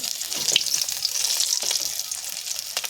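Lata snakehead fish frying in oil in a pan, a quiet, close sizzle with scattered crackles and pops throughout, with no talking.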